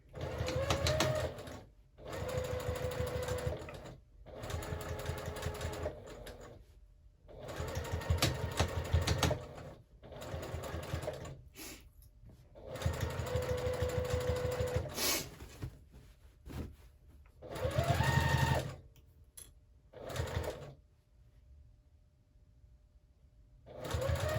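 A sewing machine stitching a quilted tote bag made from scrap fabric or jelly roll strips, running in repeated bursts of steady whirring with short pauses between, close and alone.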